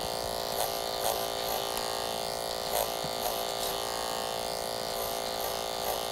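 An electric hair clipper cuts thick hair during a short clipper haircut, a steady close buzzing drone with brief louder bursts as the blades bite through the hair; no talking.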